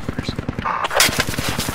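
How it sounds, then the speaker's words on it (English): Rapid, evenly spaced bursts of gunfire in Project Reality's Falklands War setting, a steady rhythmic thudding of shots with a louder blast near the middle, loud and close. "They're still bombing it."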